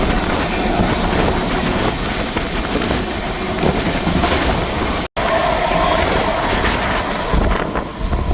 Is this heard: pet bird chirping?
no